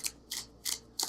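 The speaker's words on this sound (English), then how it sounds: "See, I even started shuffling faster." Tarot cards are shuffled fast in four quick, faint swishing riffles at an even rhythm, close by and with nothing else heard.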